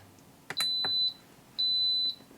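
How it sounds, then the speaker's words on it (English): Kitchen timer being set while chili con carne cooks, giving two long, loud, steady electronic beeps of about half a second each, with small clicks before the first beep. "and the timer is set"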